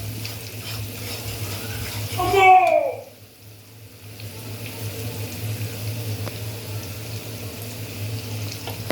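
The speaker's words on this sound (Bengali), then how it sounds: "একটু পানি দিয়ে দেই।" Water is poured into a cooking pot of spiced beef for tehari, a short gush of liquid splashing onto the sizzling masala for about a second, then a steady background hum continues.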